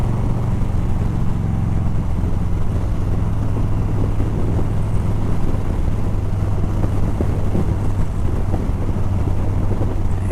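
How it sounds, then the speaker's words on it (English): A 2021 Harley-Davidson Softail Standard big-twin exhaust drones steadily while riding, a loud continuous low rumble mixed with wind rush, with no talking. "The exhaust, it does sound nice, no question about that, but it's loud."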